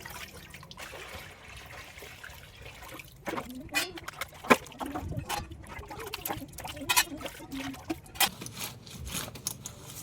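Irrigation water flows across a cumin field in a steady, gurgling trickle, broken by occasional splashes and knocks, with voices talking over it.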